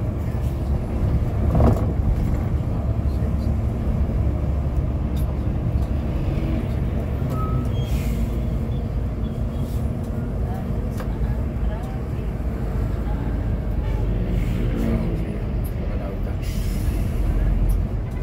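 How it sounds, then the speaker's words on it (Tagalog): Evening road traffic near the Santo Tomas market in the Philippines makes a steady, loud low rumble of passing vehicles. Engine noise holds through the whole stretch, with a few brief higher sounds on top. "Traffic."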